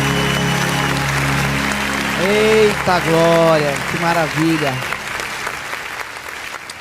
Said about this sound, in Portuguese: E as palmas exaltam o nome do Senhor.